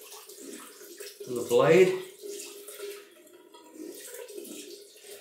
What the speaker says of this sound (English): Get some cold water on the steel